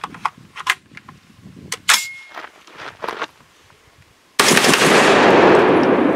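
12 gauge shotgun shells are fired from a Genesis Arms AR10 conversion upper: several sharp, loud reports and metallic clangs at irregular spacing, then a sudden sustained roar of broadband noise.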